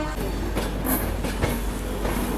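An express train pulling out of a station, with a steady rumbling rail clatter and faint clickety-clack close by, continuous with no talk.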